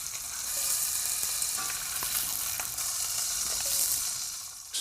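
Spam pork sizzles and fries in a pan, a dense steady hiss with scattered pops and crackles, close and fairly loud throughout, with no voices.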